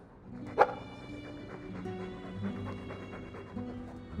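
A dog's single sharp bark rings out near the start of a Dragon Age 2 tavern scene, followed by low whimpering and yips under steady background music.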